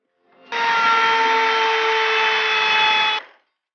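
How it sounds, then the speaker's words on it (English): A power drill bores holes in an extension board for an electric hand planer jointer jig, one steady high whine of about three seconds that starts and stops cleanly. "Make holes to lock the extension board for hand planer."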